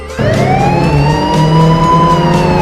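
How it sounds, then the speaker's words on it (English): A loud wailing police siren sweeps up and holds, close and dominant, with a deep engine rumble underneath. "did I hear some police sirens too?"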